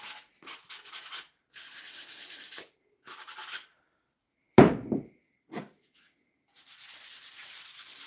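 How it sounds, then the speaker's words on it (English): Light scuff sanding by hand on a wood piece between polyurethane coats in a woodworking shop, heard as repeated raspy back-and-forth rubbing strokes in bursts with pauses and a knock in between, close and with no talk. "We're just giving it a little scuff before we apply the second coat of polyurethane."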